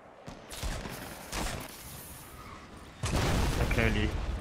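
Bursts of gunfire from the Fortnite Battle Royale video game, a few fairly loud shots with a heavier volley near the end, while a player talks over the action.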